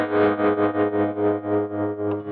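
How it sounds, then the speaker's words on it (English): A distorted electric guitar chord through the tremolo effect of a TC Electronic Plethora X3 pedal, throbbing in a steady, even pulse about five times a second, loud and sustained with no talking. "turn the tremolo on"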